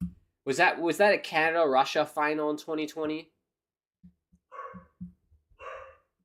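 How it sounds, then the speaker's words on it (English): After someone talks, a pet dog barks indoors in the background, giving a couple of short, muffled, fairly distant barks. "Apologies for the dog barking."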